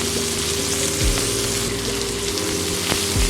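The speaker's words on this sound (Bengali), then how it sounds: "ওই একই তেলের মধ্যে দিয়ে দেবো ডুমো করে ছোটো ছোটো করে কেটে রাখা পেঁয়াজ।" Finely diced onions drop into hot oil left from frying pointed gourd and sizzle and crackle steadily, with a low hum running underneath.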